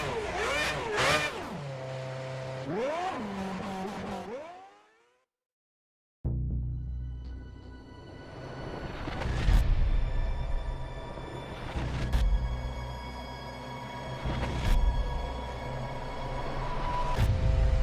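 Formula 1 car engine in a racing video game at the European Grand Prix: a few swooping revs rise and fall in pitch, then brief silence, then a steady engine drone with repeated surging bursts of throttle.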